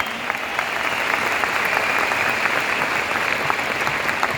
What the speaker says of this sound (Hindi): तो सबसे पहले मैं एक बार जोरदार तालियां चाहता हूं उन लीडर्स के लिए